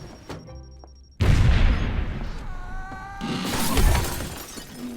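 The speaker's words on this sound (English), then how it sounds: "The plate glass window broke my fall." Plate glass window shattering in a sudden loud crash, followed by a spray of breaking and tinkling fragments and a second burst of falling glass.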